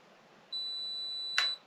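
A single steady high-pitched electronic beep from a G&G FAR 556 airsoft electric gun while its trigger is held for programming, holding about a second over quiet background, ending with a brief click.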